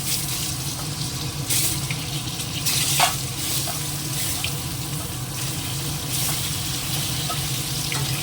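Eggs frying in hot oil with turmeric, a steady close sizzle and spatter with a brief louder crackle burst midway, no talking.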